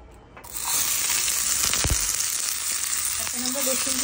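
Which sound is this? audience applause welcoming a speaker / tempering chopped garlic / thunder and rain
tempering chopped garlic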